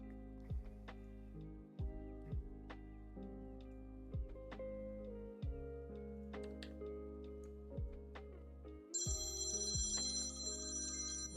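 A phone ringtone plays an incoming-call melody: a repeating pattern of tonal notes, fairly clear and steady, with a brighter, louder phrase near the end and no talking.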